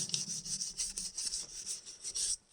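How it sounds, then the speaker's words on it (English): Rhythmic back-and-forth rubbing of 800 grit sandpaper over cut-down Telecaster-style guitar parts, a steady close scratchy swish repeating about every quarter second, alone with no talk. "So then I go over them with 800 grit."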